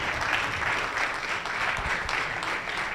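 A conference audience applauds to welcome a speaker onstage, a dense, steady wash of clapping from many hands that carries evenly through the clip.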